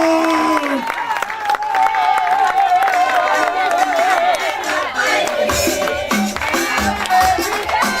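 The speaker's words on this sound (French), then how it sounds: "On applaudit très fort le président" Audience at a Femmes Solidaires evening applauding the president, a sustained wash of clapping and crowd noise with a voice talking over it near the front for much of the time.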